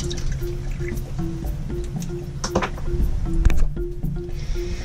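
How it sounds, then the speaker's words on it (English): Water drips and trickles into a sailboat galley sink in small irregular spurts from a manual foot pump, with a faint steady hum underneath. "So what we have is a foot pump for the salt water"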